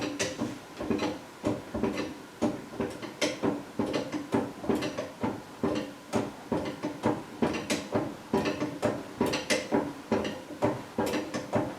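A hand ratchet clicks in quick repeated bursts while tightening bolts on a third-generation Camaro's rear deck panel, a close, rhythmic metallic ratcheting with short pauses between strokes.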